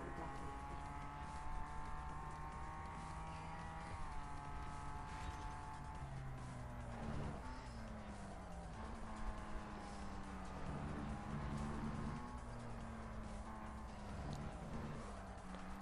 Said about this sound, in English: I'm going to accelerate with me actually doing the driving.